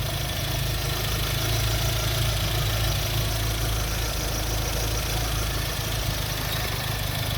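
A Chevrolet Astra engine idling roughly, close and loud: a dense, continuous mechanical rumble with an uneven, knocking texture that never lets up.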